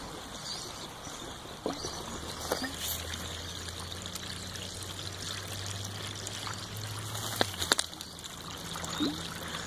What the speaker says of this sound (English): I can hear water moving around behind it.